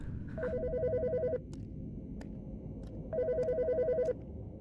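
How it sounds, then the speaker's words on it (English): A telephone in the Autopsy Simulator video game rings in two electronic bursts of warbling trills, each lasting about a second, with a pause between them, loud and close over a low background hum. "The fucking phone."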